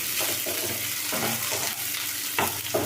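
Whole cumin seeds with green chillies roast in a hot pan while being stirred, a continuous crackling sizzle broken by scraping stirs, close and steady with no talking.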